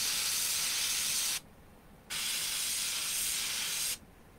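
An airbrush sprays paint onto an RC car body shell in two close, hissing bursts of about a second and a half each, with a short quiet gap between them.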